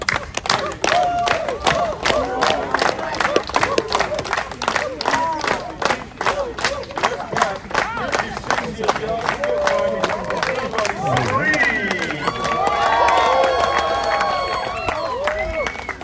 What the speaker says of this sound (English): Put your hands together. Get ready. Hands clap.